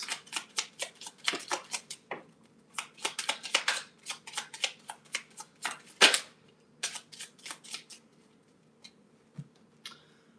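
Tarot cards riffle and slap together in a steady run of sharp, close shuffling bursts, fairly loud and alone with no talk over them.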